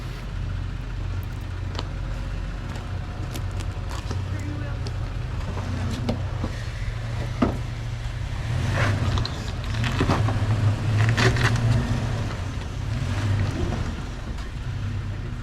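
A third-generation Toyota Tacoma TRD Off Road pulling a trailer crawls over rock and gravel on Steele Pass in Death Valley. Its engine drones low and steadily, with crunches and knocks from the tires and wind noise.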